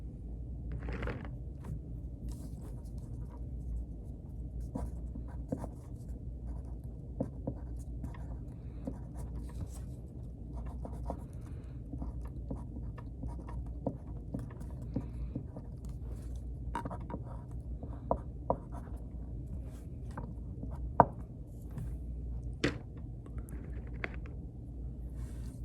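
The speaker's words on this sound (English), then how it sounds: "I'm gonna write one real quick," Faint, intermittent scratching of a pen as someone handwrites a short note on a handmade Mother's Day card, the small strokes ticking over a low, steady background hum.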